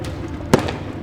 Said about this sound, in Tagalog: Nagpaputok muli sila ng baril.